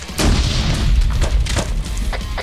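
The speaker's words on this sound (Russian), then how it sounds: "Граната ушла." A grenade going off in the Arma 3 military game, heard as a loud, dense boom with rumbling low-end and crackling debris that stays heavy through the whole stretch, with no talking.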